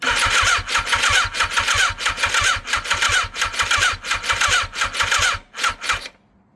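An abandoned 1980s Yamaha superbike cranks on the starter with the choke fully out, a rapid, rhythmic churning that grinds on for about six seconds without catching, then stops abruptly.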